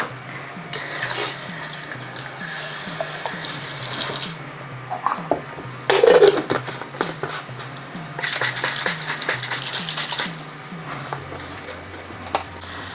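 Tap water runs into a sink to rinse out a pan after making Indian tomato sauce, a close, steady splashing flow with clinks and knocks of the pan and a louder burst midway.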